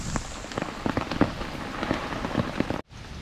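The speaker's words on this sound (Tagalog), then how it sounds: "Lakas po ang ulan." Heavy rainy-season rain pours down steadily with a dense, hissing roar and scattered louder drops pattering close by, then cuts off abruptly near the end.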